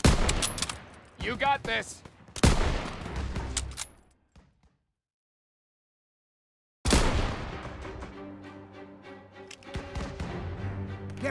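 Gunfire bursts in the World War II shooter game Call of Duty WWII: dense rattling volleys and loud cracks before a brief silence, then sustained firing layered with music and battlefield noise, with a voice shouting briefly.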